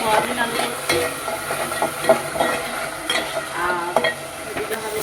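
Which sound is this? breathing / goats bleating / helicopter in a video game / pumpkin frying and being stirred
pumpkin frying and being stirred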